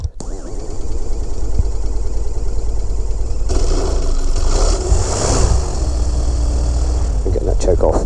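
A flexwing microlight aircraft's engine is started and runs as a steady, loud mid-pitched drone throughout, rising briefly in the middle, with people talking over it.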